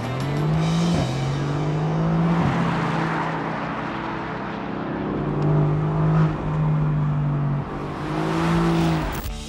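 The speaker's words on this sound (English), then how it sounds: "All you need to do is floor the gas, go around a few corners with the roof down," A Mercedes-AMG GT C Roadster, a front-engine sports car, is driven hard with the roof down. Its loud, close engine note climbs and drops through gear changes, with no talking.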